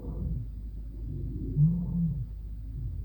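A lion roaring far off at night, a low rumbling swell that peaks briefly and fades under a steady deep background hum.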